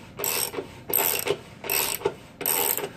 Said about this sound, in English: We feed that into our axle, and we take that right out.